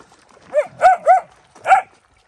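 An old dog barks four times in quick, loud, close succession, each bark short and sharp, with quiet pauses between and no talking.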